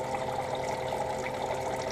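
A livewell pump in a cooler sprays salt water steadily through a filter, giving a continuous hiss and splash close by with no pauses.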